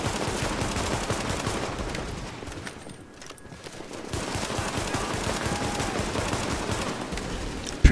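Machine gun fire in the video game The Division, with dense, continuous rattling bursts and a brief lull midway, loud and close, with no talk over it.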